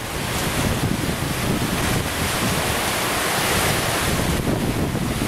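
Strong cyclone wind roars without pause, buffeting the microphone in heavy gusts, with a rushing, surf-like wash underneath and no one speaking.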